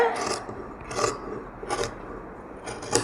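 Scissors cut synthetic lining fabric for a blouse in several short rasping strokes, close and moderately loud, with brief pauses between cuts and no talking.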